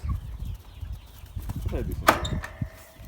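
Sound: chickens and roosters clucking

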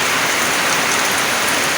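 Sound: heavy rain falling

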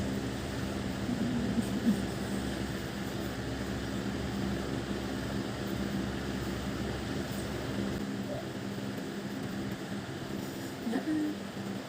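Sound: hair dryer drying hair

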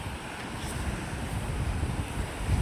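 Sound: sea waves crashing against the embankment

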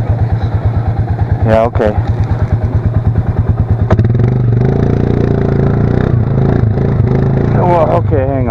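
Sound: stuck motorcycle engine revving with throttle

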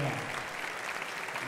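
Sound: applause for Javi

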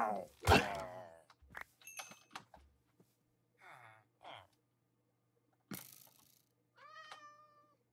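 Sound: cat meowing in the video game Minecraft

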